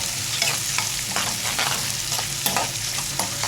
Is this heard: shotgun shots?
no